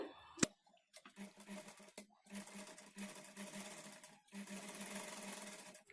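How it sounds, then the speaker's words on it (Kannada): Domestic sewing machine stitching along the edge of a lining for thread piping, running in steady bursts of rapid needle chatter separated by short pauses and a sharp click near the start, close and fairly quiet. "ಈ ಲೈನಿಂಗ್ ಮೇಲೆ ಎಡ್ಜ್ಗೆ ಒಂದು ಸ್ಟಿಚ್ ಮಾಡಿಕೊಳ್ಬೇಕು"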